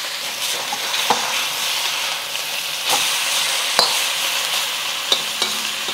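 One pound of lean ground beef sears in a hot pan with a loud, steady sizzle close by, and a few small pops and clicks break through it.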